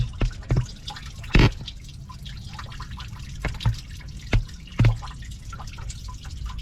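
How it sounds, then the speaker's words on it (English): Coolant draining from a car's drain screw during a first flush, with irregular drips and splashes falling into a container over a steady background hiss. "I'm draining out the first flush."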